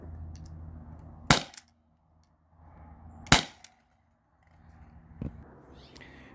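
A T4E HDP50 CO2 pistol fires at cans at close range: three sharp, loud single shots spaced about two seconds apart, each with a quick metallic knock after it, over a low hum.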